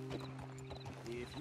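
Horse hooves clip-clop in Red Dead Redemption 2, a steady series of soft hoof strikes under a sustained background tone, close and moderately quiet.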